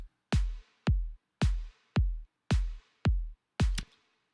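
A kick drum alternates with a lightly compressed, reverb-tailed snare in the beat, programmed in Ableton. Seven punchy hits land at an even, steady pace, with short decays and silence between them.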